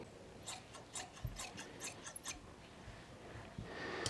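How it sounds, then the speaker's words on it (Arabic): Scissors cutting through fabric: faint, close snips and rasping slides in an uneven rhythm, quiet against low background noise, with no one speaking. "غادي نقطع دابا الجلال"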